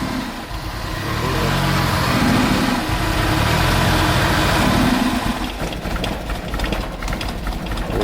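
A Smart car engine under repair runs loud and close, rising into a sustained rev for several seconds before settling back toward a rougher, uneven idle.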